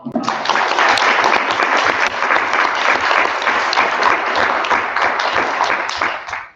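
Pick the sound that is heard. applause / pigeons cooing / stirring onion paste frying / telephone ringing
applause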